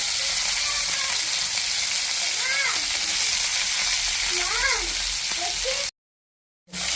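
Raw green mango pieces, onion and tomato fry steadily in a pan for a prawn curry, giving a loud continuous sizzle that cuts out near the end, with a voice speaking faintly beneath.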